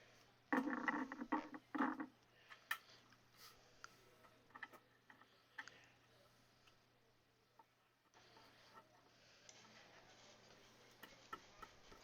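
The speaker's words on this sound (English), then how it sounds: "I'm tapping the back end of the drywall saw just enough to get my saw in there" A drywall saw's back end is tapped into drywall, giving a quick cluster of sharp knocks at the start, then scattered faint ticks and taps against a quiet room.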